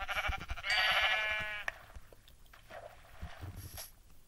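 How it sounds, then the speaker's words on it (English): A sheep in a Minecraft-style video game bleats once in a wavering, drawn-out call, followed by softer rustling and thuds, with a fainter bleat near the end. "why are these sheep just coming out?"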